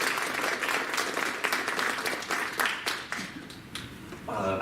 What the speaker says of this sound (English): So let's have another round of applause.